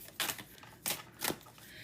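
Tarot cards being shuffled by hand, three short papery riffling bursts with brief pauses between them, close and fairly quiet, no voices.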